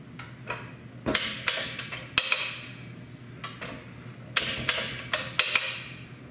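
Sharp metallic clicks and knocks from a Greenlee 1818 mechanical conduit bender working 1½-inch EMT, heard as irregular clustered impacts, close and fairly loud, with pauses between them.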